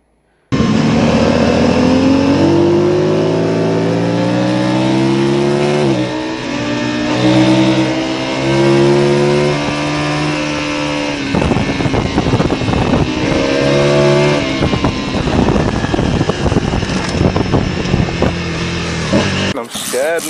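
A motorcycle engine with a stuck throttle screams at a loud, sustained high rev for about twenty seconds, its pitch wavering and climbing slightly, close up, with frightened voices shouting over it.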